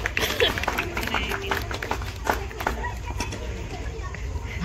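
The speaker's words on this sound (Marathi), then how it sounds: "जोरदार टाळ्या." Applause from an audience at a women's-category prize distribution ceremony held by a local mandal, dense clapping sustained throughout under a busy crowd murmur.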